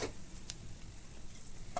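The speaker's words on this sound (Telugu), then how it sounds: "అటు ఇటు కలుపుతూ బాగా వేపుకోవాలి" Coriander leaves sizzle softly in hot oil, a quiet, steady crackle with a few faint clicks of the pan or spoon while being stirred back and forth.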